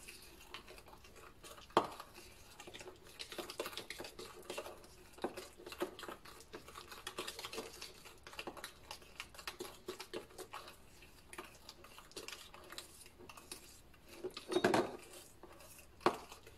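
Homemade lavender shaving cream being mixed in a bowl: quiet, irregular scraping and clinking of a utensil against the bowl, with a couple of sharper knocks.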